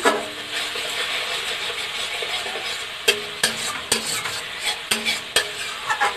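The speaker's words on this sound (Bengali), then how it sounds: "মশলাটা আমার এখানে কষা চলছে ভালো করে মশলাটাকে কষিয়ে নেব যাতে না কোনো মশলার কাঁচা স্মেল থাকে" Spice paste for a Bengali fish curry is stir-fried in a pan, a steady close sizzle broken by repeated sharp scrapes and clinks of a spatula against the pan.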